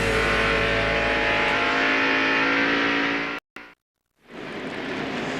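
NASCAR race cars at Homestead-Miami Speedway during the 2001 Pennzoil Freedom 400, engines roaring loud and steady before cutting off abruptly, then a brief silence and the roar fading back in.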